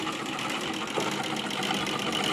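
A 67-year-old British-made sewing machine, freshly serviced, stitches steadily with a smooth, even mechanical whirr and rapid needle chatter, close and continuous without talk.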